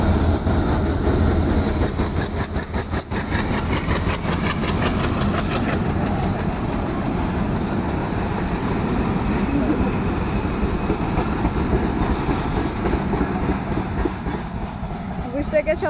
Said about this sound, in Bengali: এই দেখো ট্রেন এখন যাবে।